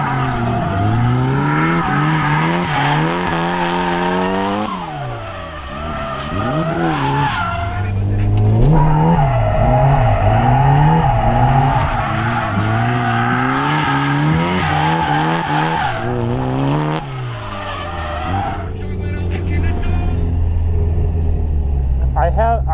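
A turbocharged Mazda Miata drifts at a track event, its engine rising and falling through long revving sweeps while the tires squeal and skid, loud and close and continuous for the whole stretch.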